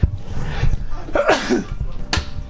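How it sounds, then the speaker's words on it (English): A single sharp sneeze bursts out during a livestream of Persona 5 Royal, brief and close over faint background noise. "Hold up, I might sneeze at this point."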